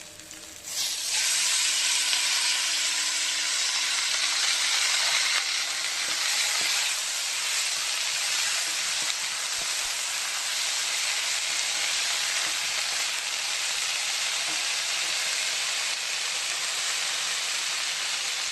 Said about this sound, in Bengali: তেলটা ভাজা হয়ে গেছে দেখুন, এবার শাকটা আমি দিয়ে দেবো